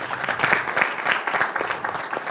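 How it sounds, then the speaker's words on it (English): Audience applause at a business launch event in Kenya, a steady patter of many hands clapping at moderate loudness for a couple of seconds. "Let's clap for them again"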